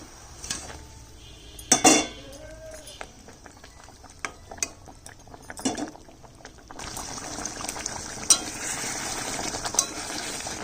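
Pabda fish slides into a pot of boiling gravy made with cashew and poppy-seed paste, with clattering pot and utensil knocks up front and a steady bubbling simmer building louder toward the end, no voices.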